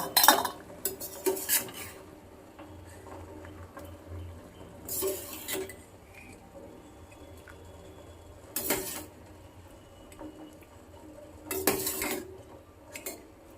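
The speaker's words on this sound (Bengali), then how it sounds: "এবার জল ছেঁকে ছেঁকে তুলে নেব" Utensils clink and scrape against a pot and strainer as boiled green broccoli is drained and lifted out, with a few distinct bursts of metal clatter separated by quieter kitchen background.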